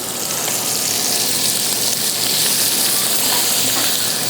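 Steak searing in a hot pan while being basted with butter and rosemary gives off a loud, steady, dense sizzle and crackle that stays even for several seconds, with no voices.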